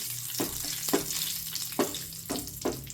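Mustard seeds and curry leaves crackle and sizzle in hot oil for a tempering, a steady close fry broken by several sharp popping bursts at irregular intervals, with no talking.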